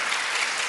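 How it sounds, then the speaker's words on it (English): Republican lawmakers clapping in support of an objection during the electoral vote count, a short dense burst of applause from a group that cuts off abruptly. "some Republicans stood clapping their hands in support of the objection"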